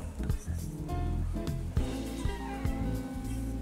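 A cat meows several times in a kitchen, with short tonal calls over background noise and some low talking nearby.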